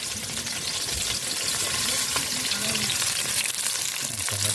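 Food sizzles and fries steadily over a wood-fueled fire outdoors in a rural Philippine setting, a continuous close crackling hiss with low rumbling underneath and faint voices nearby.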